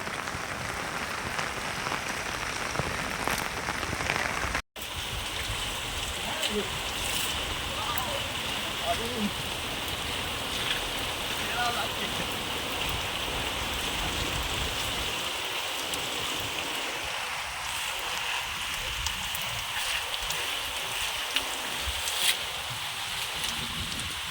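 Heavy rain pours steadily onto a flooded, waterlogged street, a dense constant hiss with patter throughout, lasting the whole stretch with a brief dropout, while a voice talks faintly over it.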